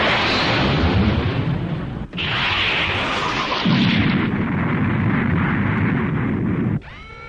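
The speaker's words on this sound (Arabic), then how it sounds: "موجة الانفجار وصلت إلينا." A massive blast roars on and on, loud and rumbling, with a brief dip before a second surge of explosive noise that ends suddenly.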